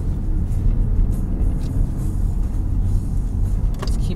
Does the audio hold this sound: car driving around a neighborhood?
yes